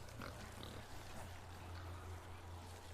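Pigs in The Outer Worlds grunting and oinking, several short snorts over a low, steady background hum, faint and close.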